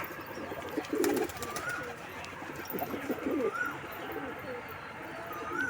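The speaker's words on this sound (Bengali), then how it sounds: "সব পায়রা চলে এসেছে ছাতে" Pigeons coo softly on a rooftop in low, rolling calls against outdoor background noise, with a few brief bursts of nearby bird activity.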